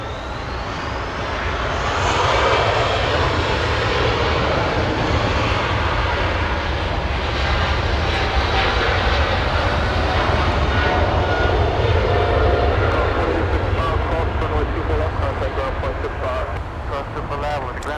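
A British Airways plane departs Los Angeles bound for London Heathrow, its engines building to a loud, sustained roar that holds steady for the whole stretch, with a voice talking over it.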